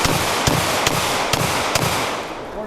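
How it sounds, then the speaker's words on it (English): Rapid pistol shots from a Smith & Wesson M&P9 M2.0 Performance Center competition handgun at a USPSA classifier match: five sharp, loud reports spaced roughly half a second apart over steady outdoor background noise. "Very nice, very flat shooting."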